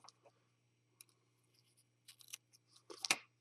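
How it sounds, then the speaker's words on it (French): Small scissors trim the excess cotton wick on a vape dripper, a few soft snips that build to sharper close clicks near the end, over a faint steady hum. "Ensuite, je vais venir couper ce qui dépasse."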